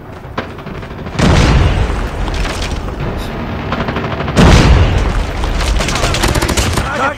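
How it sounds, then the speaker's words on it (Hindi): Two heavy booming blasts from a predator missile strike in Call of Duty Mobile, each followed by a dense rumbling spread of gunfire and debris, loud and close with continuous crackling between hits. "Friendly predator missile inbound."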